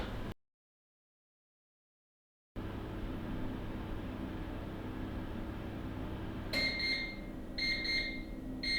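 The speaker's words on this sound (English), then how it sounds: "it will at the end give you some audible tones, 9 of them" Timer end tones from a Bosch oven as it switches itself off, a few short high electronic beeps in quick groups near the end, heard over a steady low hum of room noise after a brief silent gap.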